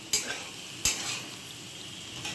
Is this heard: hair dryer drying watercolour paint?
no